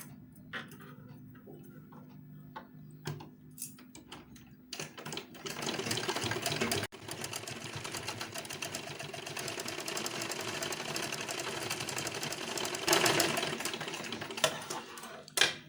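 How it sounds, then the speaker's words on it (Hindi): A sewing machine stitches a size-38 boat-neck blouse. It runs as a steady mechanical whirr, softer at first, then louder and continuous from the middle, with a brief break and a final short burst. "एक जहाँ से मैं सिलाई लगाई इसी के ऊपर से इस तरह से सिलाई लगाऊंगी।"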